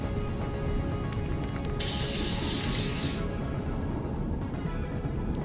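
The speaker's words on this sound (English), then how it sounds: "Liquid-proof protector spray. Oh, we get to use this stuff finally as well." A burst of liquid-proof protector spray in the video game VirtuaVerse, a steady broadband hiss lasting about a second and a half over a constant background hum, with no talk.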